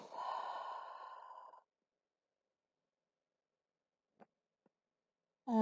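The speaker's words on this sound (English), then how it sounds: "Settle into your Ujjayi breath, just in through the nose, out through the nose," Audible Ujjayi breath drawn through the nose in a yoga flow, one long hissing breath up close, then near silence with a couple of faint ticks and another breath starting at the end.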